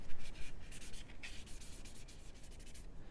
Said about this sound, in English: I'm gonna do a little wet sanding